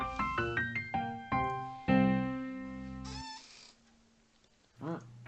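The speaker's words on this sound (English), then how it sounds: "Cat." A cat meows repeatedly in a played clip, a series of short tonal cries in quick succession followed by a longer drawn-out call and a final brief meow, with faint voices around it.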